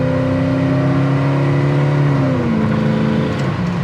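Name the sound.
1972 Chevrolet Camaro RS accelerating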